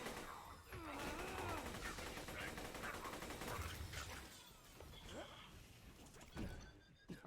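Rapid automatic gunfire from the Lead Storm weapon in the Borderlands 2 video game, a dense sustained fusillade of shots with clattering impacts and mechanical effects running nearly throughout.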